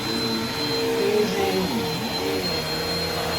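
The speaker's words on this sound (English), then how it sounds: "this has been a great vacuum for us" A Bissell 2252 CleanView Swivel upright bagless vacuum cleaner runs steadily nearby with a constant whine and drone, its pitch shifting slightly as it moves, and no talking.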